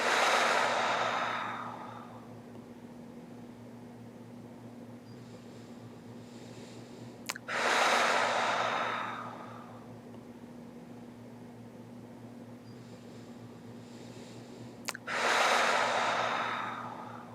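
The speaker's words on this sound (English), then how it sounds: "We're going to take some really deep breaths." Deep, slow breathing during a yoga practice, with three long inhale-exhale cycles spaced about seven seconds apart, close and clear over a steady low hum in a quiet room.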